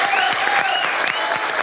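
An audience applauds during the semi-final of a singing competition: a steady, dense wash of clapping with faint whistle-like tones above, loud and continuous throughout with no speech.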